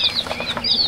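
Young turkey poults flutter and flap their wings inside a shipping crate after a long trip, giving a rapid, close fluttering with bright high chirps over it, with no voices.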